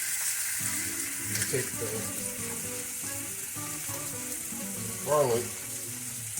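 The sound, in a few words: steak and garlic frying in a pan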